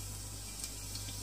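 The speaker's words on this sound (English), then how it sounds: "Now the oil is hot enough. Just throw in cumin seeds," Cumin seeds sizzle in hot oil for a moment, a faint, even hiss with a couple of tiny pops.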